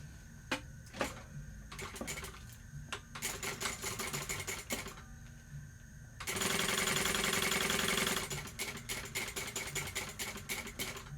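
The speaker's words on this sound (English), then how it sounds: "We're going to top stitch these 1/8 of an inch from the edge on both sides." A sewing machine top stitches backpack pieces in short bursts of rapid needle clatter, then settles into one steady, louder run of about two seconds before returning to brief stop-start stitching.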